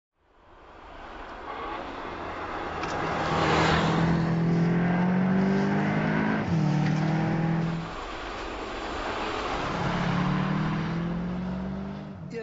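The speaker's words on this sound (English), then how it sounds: "The corner exit acceleration of that car is just unbelievable." A 2021 Volkswagen Arteon R accelerates hard out of corners on a mountain road, its engine note rising and swelling loud and close, easing off briefly, then pulling strongly again.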